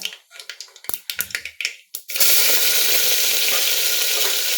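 Roasted peanuts drop into hot oil with cumin, first a scatter of sharp clicks and pops, then a loud, steady frying hiss that fills the rest of the time, close and alone without talk.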